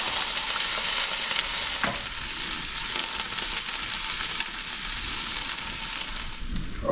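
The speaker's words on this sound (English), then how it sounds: "This is the stew meat. Yep, got it all browned up." Stew meat browning in a pan gives a steady, loud sizzle and frying hiss that runs the whole way through, broken now and then by stirring, with no talk over it.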